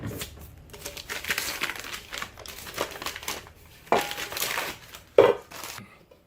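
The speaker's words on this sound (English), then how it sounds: "take the paper off this one first" Paper label being peeled and torn from a metal can while building a rocket stove, heard as irregular crinkling, crackling and ripping bursts with short pauses and one sharp snap near the end.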